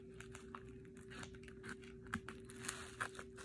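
Quiet, close crinkling and scratchy rustling of plastic with a few sharper snips and crunches, irregular and soft, no talking.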